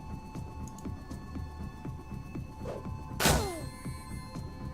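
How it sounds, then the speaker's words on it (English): A flashbang goes off in the video game Shadowrun Dragonfall: one sharp, bright burst with a short ringing tail cuts through a steady backdrop of soft rhythmic thumps and low hum. "try to put those guys to sleep with the old flashbang"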